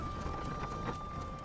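Horse hooves clip-clop steadily beneath a dense, constant bed of sound as a horse-drawn carriage travels, with no clear gaps between the beats.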